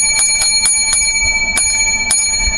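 A small bell rings out in a quick run of bright, sharp strikes, then two more spaced strikes, loud and close with no talking.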